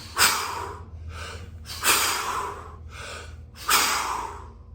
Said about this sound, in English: So you do this breath 30 times.